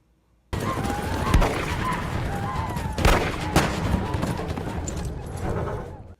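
Colt Single Action Army revolvers firing black powder cartridges in a Western movie scene, several sharp shots scattered over continuous clattering hooves and action noise.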